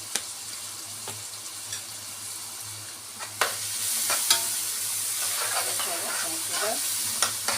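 A single onion seasoned with salt and pepper sautés in a pan, a soft sizzle swelling louder partway through, with occasional light clicks and scrapes of stirring, close and without talk.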